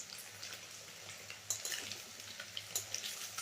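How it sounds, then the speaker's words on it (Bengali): Pieces of paneer shallow frying in a pan, a soft, steady sizzle with small crackles and pops coming in bursts near the end, close by and fairly quiet. "তো দেখো পনিরটা আমি হালকা হাতে একটু শ্যালো ফ্রাই করে নিচ্ছি।"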